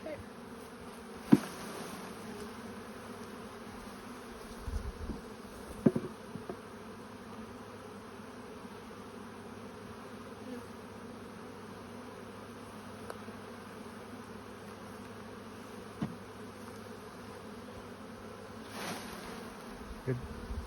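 Honey bees drone steadily on a frame lifted from the brood nest of a hive, a dense, continuous hum close to the listener, with occasional soft knocks and handling bumps and no talk.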